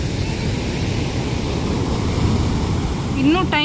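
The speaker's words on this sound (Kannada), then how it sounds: "ಸಮುದ್ರ." Continuous surf rolls in at Kinara beach in Udupi district, a dense, even wash of breaking waves with wind noise, and a voice cuts in briefly at the very end.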